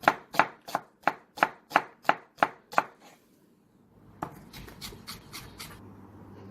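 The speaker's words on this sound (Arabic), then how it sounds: "انا هون انتهيت من تقطيع البصل، قطعت البصل بشكل ناعم" A knife finely chops onion rapidly on a cutting board, about ten crisp evenly spaced strikes, then a pause and a looser scatter of lighter taps.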